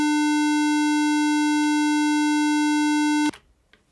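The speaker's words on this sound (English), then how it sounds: "Here is pulse, and pulse is sounding like this." Steady synthesized tone with a strong fundamental and evenly stacked harmonics, a square-like pulse wave from an LF pulse oscillator, sustained loudly and unchanging for over three seconds before cutting off abruptly into near silence.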